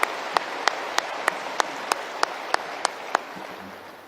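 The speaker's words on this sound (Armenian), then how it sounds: "Ես էլ ծափահարում" Regular sharp claps ring out about three times a second over a dense wash of audience applause in a large conference hall, the clapping fading slightly toward the end.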